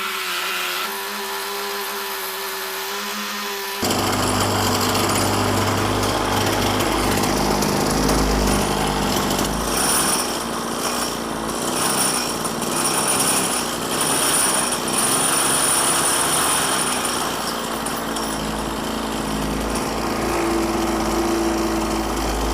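Small engine fitted to a bicycle with a homemade centrifugal clutch, starting up after a few seconds of quieter sound and then running with a loud, continuous buzzing roar close by, with no talking.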